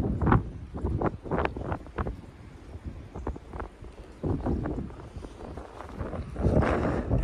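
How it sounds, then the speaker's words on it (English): Wind blowing outdoors on a windy spring day, gusting buffets and rumbling microphone noise that surge and fade in uneven waves, loud and close throughout. "just listen to this wind here for a minute"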